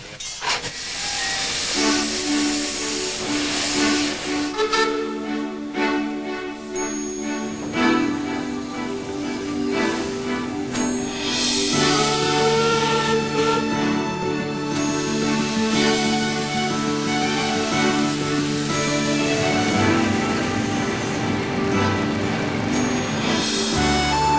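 Small-gauge steam locomotive on a Queensland sugar cane tramway, hissing steam and chuffing with rail clatter and whistle-like tones, loud and close throughout.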